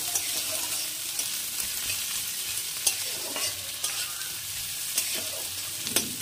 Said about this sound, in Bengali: দিয়ে এটাও একটু নেড়ে চেড়ে ভেজে নেব লাল লাল করে।